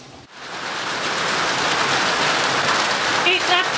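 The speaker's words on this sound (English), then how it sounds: "It's absolutely heaving with rain, which is why I'm shouting. And you can hear it on the corrugated tin above." Heavy rain drums on a corrugated tin roof overhead, a dense, steady, loud roar that fills the whole clip after a brief dip at the start.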